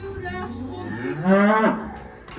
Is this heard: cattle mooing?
yes